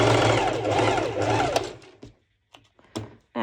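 A home sewing machine stitches fabric for a sporty ruffled top, running steadily and loud up close for about two seconds before stopping, followed by a few sharp handling clicks and a brief restart at the end.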